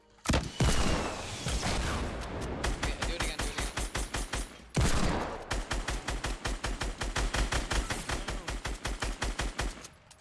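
Desert Eagle pistol gunfire in the video game Fortnite: a long string of loud, sharp shots fires in a fast, steady rhythm, with a brief pause midway before the rapid shooting resumes.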